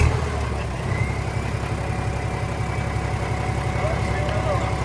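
A McCormick B450 tractor with a leaking turbo runs steadily at idle, a low, even engine rumble heard from close by while people talk over it.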